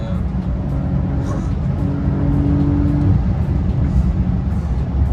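A Porsche 911 drives and accelerates, its engine a loud steady drone from inside the car with rising tones, while people talk over it.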